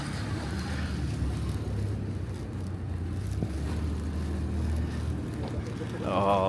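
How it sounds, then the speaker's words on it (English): A Toyota AE86 pulls up at a Friday night car meet at Daikoku, its engine a low steady rumble under wind noise and crowd ambience, with people talking nearby. "Pulling up another A86."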